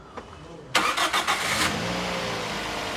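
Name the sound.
car engine starting and revving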